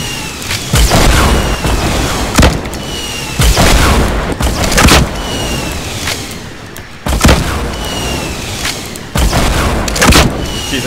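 Rocket explosions in Fortnite come in a rapid barrage of loud, close booms, roughly a dozen heavy blasts spread unevenly across the stretch, each with a rumbling tail.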